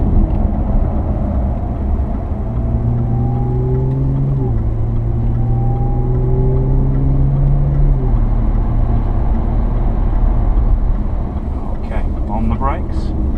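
A Jaguar XF with 360 hp drives laps of the Pamplona circuit, its engine a steady loud drone with smooth pitch sweeps as it slows and shifts, while people talk continuously inside the cabin.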